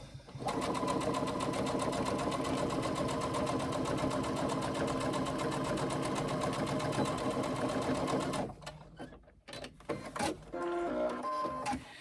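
A sewing machine stitches the side seam of a tote bag in a steady, continuous mechanical whir for about eight seconds, then stops, leaving brief handling clatter and a short burst of lighter sound near the end.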